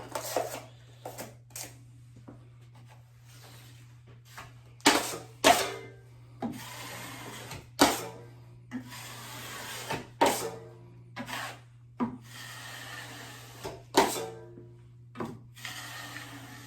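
A taping knife scrapes along a coated drywall seam in a run of repeated short strokes, each a sharp broadband rasp with pauses between, close and fairly loud over a steady low hum.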